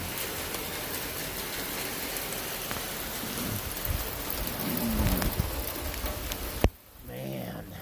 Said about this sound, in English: Let's see if we can get a close-up on some of the hail here